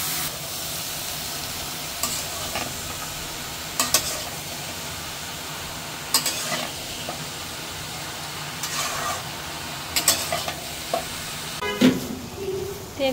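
Bottle gourd curry with powdered spices, salt and green chillies being stirred in a pan, giving a steady soft sizzle with occasional scraping stirs and clatters, fairly quiet with no talk.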